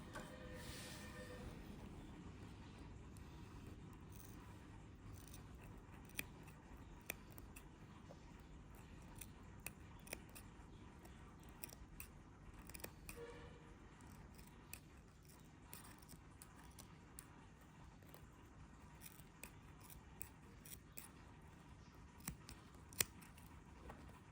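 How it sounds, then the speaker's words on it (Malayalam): Scissors trimming excess net cloth during flower-making craftwork, a run of faint, sparse snips and clicks spread over a quiet room background, heard alone without talking. "ബാലൻസ് വരുന്ന ക്ലോത്ത് നമുക്ക് കട്ട് ചെയ്ത് കളയാം."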